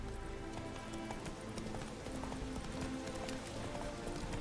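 A horse gallops in Witcher 3, its hooves clip-clopping in a steady, fast rhythm over continuous game ambience, loud and close throughout with no pause.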